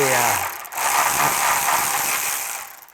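A ratchet wrench works on the long bolts of the exhaust band clamps on a Porsche 997, giving a close, steady mechanical clicking and rasping that runs for about three seconds before fading at the end.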